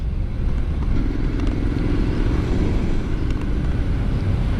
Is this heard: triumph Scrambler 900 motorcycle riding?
yes